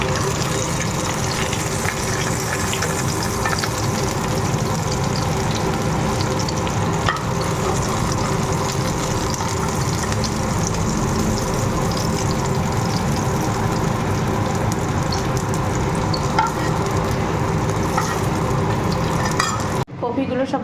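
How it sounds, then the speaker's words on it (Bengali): Bay leaves and cumin frying in hot oil for a Bengali koi fish curry with cauliflower and bori, a steady dense sizzle with stirring scrapes throughout, loud and continuous, cutting off abruptly near the end. "লাল করে ভেজে নিয়ে তেজপাতা জিরে তেলের মধ্যে দিয়ে দিলাম"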